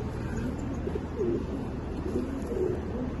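Repeated soft, low cooing from a male Kalsara pigeon, close by and moderately quiet, a few throaty coo phrases over light background noise with no speech.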